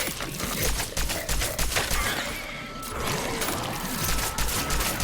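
Rapid, continuous gunfire bursts from the video game Cronos: The New Dawn, shooting at orange bubbles in a boss fight, dense crackling shots layered over a noisy background, moderately loud throughout.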